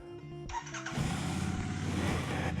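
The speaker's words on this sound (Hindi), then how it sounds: "बाइक को कर लेते हैं स्टार्ट।" Royal Enfield Shotgun 650 motorcycle engine cranks with a short whirring starter, then catches and settles into a steady, close idle rumble.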